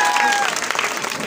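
A crowd at a local gathering in Shaheen Bagh bursts into loud, dense clapping to welcome Ariba, a brief close burst of applause.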